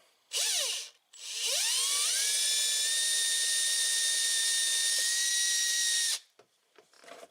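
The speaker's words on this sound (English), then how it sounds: "We're going to go through with a pilot hole." A pilot hole is drilled for a switch panel on a Honda Talon cab heater: a short spin-up, a pause, then one loud, close, steady whine that holds for about five seconds before stopping.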